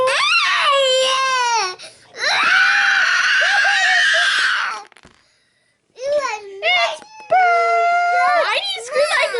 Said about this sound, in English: Why do you scream like a little girl?